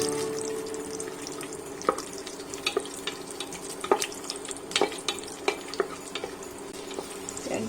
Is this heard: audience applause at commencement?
no